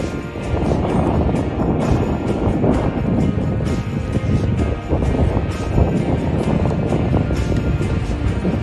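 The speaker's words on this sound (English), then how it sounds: "It's windy out here and it's getting a little cold" Steady, loud wind buffets the microphone outdoors in a backyard with a continuous rough roar and gusting rumble, no voices heard.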